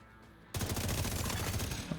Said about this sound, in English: What I can use here as well is actually the multi-missile launcher.